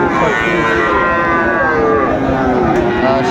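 Friesian and cross-breed bull calves at the Raniganj cattle market low loudly and continuously, with long moos overlapping against a busy crowd murmur.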